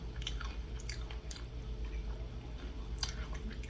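Close, wet chewing and soft crunching of chicken vindaloo, samosa and garlic naan with a minty sauce, steady mouth sounds running throughout with faint background hum.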